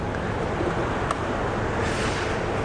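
Milk jugs are rinsed at a coffee machine, a steady, even rush of running water that continues unbroken at moderate level with one brief faint click partway through.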